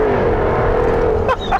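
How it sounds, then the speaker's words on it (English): A Jaguar F-Type V8 coupé accelerates hard along a road, its engine note climbing steadily and loudly before a quick shift and a fresh surge near the end. "does the F-Type V8 Coupe go."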